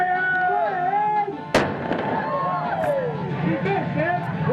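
A pirate ship's cannon fires once with a sudden loud boom aboard a tour boat at Fort Myers Beach, breaking into a crowd of people talking and calling out before and after the blast.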